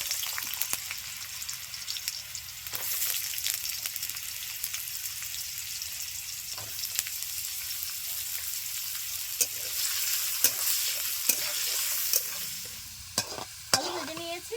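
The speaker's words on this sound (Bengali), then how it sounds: "আলুগুলো ভেজে নেব" Potatoes frying in hot mustard oil in a village kitchen, a loud continuous close sizzle and crackle that runs the whole time, with occasional taps and scrapes of a utensil in the pan.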